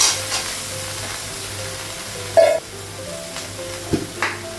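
Soybean chunks frying in a wok while being stirred, with a steady, quiet sizzle broken by a few sharp clinks of the utensil against the pan.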